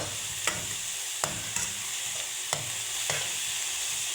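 Leafy greens frying with onion and garlic in a pan, a steady soft sizzle with a spatula scraping and stirring at regular intervals, close and alone.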